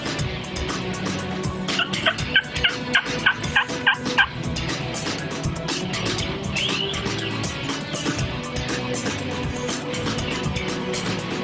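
A wild turkey gobbles in a quick rattling burst in Georgia, loud and clear, over a steady background of rushing outdoor noise.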